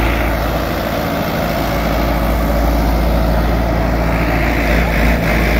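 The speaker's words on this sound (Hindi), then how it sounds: "कुछ इस ट्रैक्टर की आवाज बहुत कड़ी थी।" Sonalika Tiger DI 55 tractor, 58 hp, with its engine running in a steady, loud, close drone and no talking over it.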